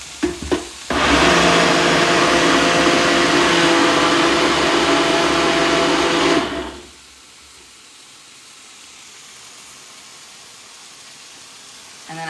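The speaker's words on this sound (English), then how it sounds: "We'll go over here, blend it real quick." A blender pureeing tomato basil soup whirs loudly for about six seconds after a brief clatter, then cuts off, leaving a quiet room hum.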